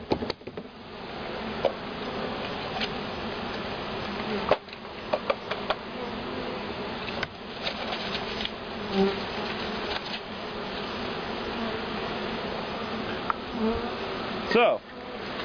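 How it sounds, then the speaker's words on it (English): A dense, steady insect hum of many honeybees buzzing close around a hive, continuous throughout with small fluctuations and a few brief louder moments. "now you can tell by the sound of the hive, obviously the sound has increased quite a bit"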